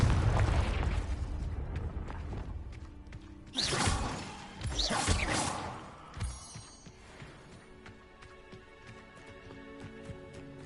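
Bursts of magic spells cast in the video game Hogwarts Legacy, with an ice spell and a fire blast, giving two loud booming, crackling impacts in a row over low game rumble, then a fainter thud as it fades out.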